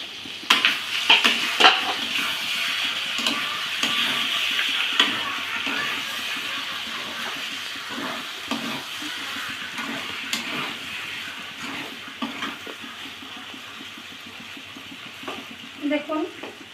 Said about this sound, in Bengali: আস্তে আস্তে সব কিছু সুন্দর কষানো হবে